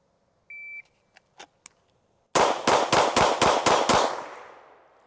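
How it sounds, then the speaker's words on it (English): A shot timer beeps once, a couple of faint clicks follow, and then a Kimber 2K11 Pro pistol fires seven sharp, loud shots in quick, even succession, their echo ringing out and fading after the last round. "This is just going to be 6 rounds on the buzzer."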